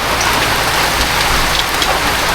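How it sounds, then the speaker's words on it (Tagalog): Sudden heavy rain pours down, a loud, dense, unbroken hiss of drops drumming on surfaces close by, steady across the whole stretch with no voices. "Biglang bumuhos ang ulan."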